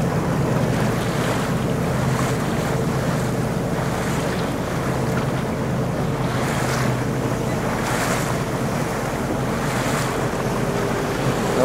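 A fishing boat out at sea during a trolling competition runs steadily over the waves, with a constant loud wash of water and engine roar, heavy wind buffeting the microphone, and periodic splashes as the hull hits swells.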